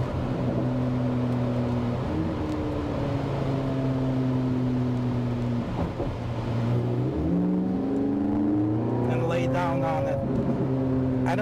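A 2023 Chevrolet Corvette Z06 Convertible 1LZ engine hums through a couple of corners, its droning tone dipping and rising as the car slows and pulls out again, heard steadily from inside the car.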